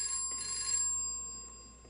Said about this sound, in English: A lot of phone ringing in this episode.